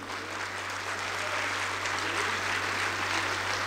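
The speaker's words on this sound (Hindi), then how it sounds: "सारे लोग हमारी स्पेस एजेंसी इसरो, इसरो के लिए जोरदार तालियां बजाइए" A large mushaira audience in Hyderabad gives sustained, loud applause for ISRO, a continuous even roar of many hands clapping with a steady low hum beneath it and no clear speech.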